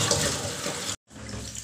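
Cut pieces of food are washed under running tap water in a kitchen, a steady close rush of water that briefly cuts out and then resumes.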